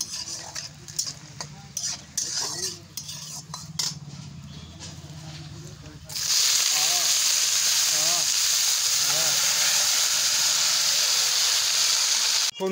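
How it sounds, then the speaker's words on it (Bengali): Cabbage drops into a hot wok in a home kitchen and sizzles loudly and steadily after earlier quieter clatter and stirring, the hiss filling the latter half. "এই বাঁধাকপিটা এখন কড়াইয়ের মধ্যে দিয়ে দেওয়া হবে, ওই দেখো ওখানে ভাজা হচ্ছে"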